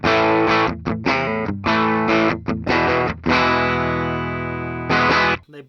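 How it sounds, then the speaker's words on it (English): A 2004 Peavey Custom Shop EVH Wolfgang electric guitar on its bridge pickup gives a dark, heavily distorted tone: loud, choppy palm-muted chord bursts in a driving rhythm, then a long ringing chord and a final stab, with no talking. "the bridge pickup has much more darker tones"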